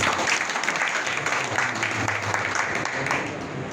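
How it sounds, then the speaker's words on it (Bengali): An audience at a theatre and drama event claps together in steady, dense applause for about four seconds, fairly close and filling the room. "ধন্যবাদ দিয়ে একটা করতালির মাধ্যমে"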